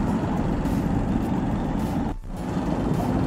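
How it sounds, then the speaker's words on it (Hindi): Road traffic at a signal in an Indian city on the way to the office, a steady loud rumble of truck and bus engines close by with a brief dip partway through. "यहाँ थोड़ा ट्रैफिक है"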